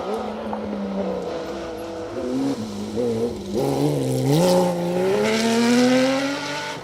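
A Ford Escort RS 1800 rally car on a rally stage, its engine climbing through the gears as it approaches and passes, the revs rising in pitch with each shift, fairly loud and steady.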